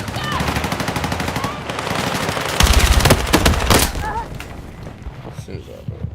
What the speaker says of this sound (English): Eyes on a machine gun!